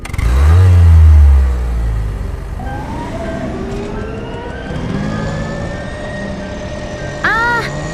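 A pink car pulls away with a heavy low engine roar, then its pitch climbs steadily as it speeds up toward top speed, with a brief chirping sound near the end.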